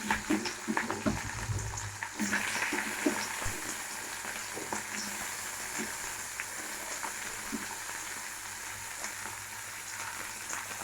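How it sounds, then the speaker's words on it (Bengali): Capsicum and chilli frying in hot oil give a steady, moderately loud sizzle and crackle, with a brief burst of clatter at the start as they go into the pan, then an even hiss that holds throughout. "এবার দিয়ে দেবো তেলটার মধ্যে ক্যাপসিকাম লঙ্কা"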